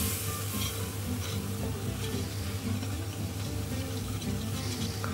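Whole wheat flour toasts in fat in a pan while being stirred for béchamel, a steady close sizzle with scraping stir noises throughout and no talking.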